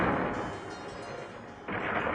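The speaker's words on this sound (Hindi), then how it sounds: "जोर से बादल गरजने लगे" A thunder effect in a devotional story, a deep broad rumble that eases off and then swells again near the end, loud and close with no speech.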